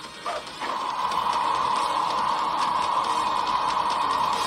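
Machine mechanism from the Sonic CD video game, a steady ratcheting, gear-like whir that starts with a couple of short clicks and then holds as a loud continuous mechanical drone throughout.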